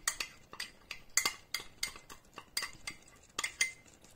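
A spoon stirs a honey and lemon mixture in a dish, giving a steady run of clinking, scraping strokes roughly every third of a second, close and fairly quiet with no voices.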